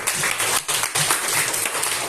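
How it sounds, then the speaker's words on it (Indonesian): A crowd applauds briefly, a dense patter of many hands clapping together in a room, steady for about two seconds. "Berikan tepuk tangan dulu."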